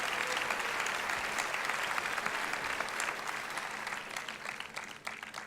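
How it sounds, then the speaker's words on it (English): A convocation audience at a Greenwich University graduation ceremony applauds, a dense and steady wash of many hands clapping for the whole stretch, easing slightly toward the end. "Ladies and gentlemen, join me to applaud this great family for giving us so much."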